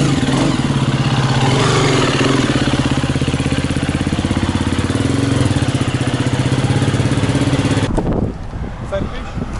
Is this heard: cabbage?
no